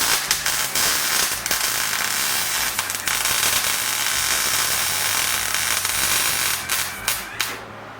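Tack welds are laid on the motor mounts of a Jeep CJ7 build, a loud continuous crackling, sizzling arc with small pops and brief breaks toward the end.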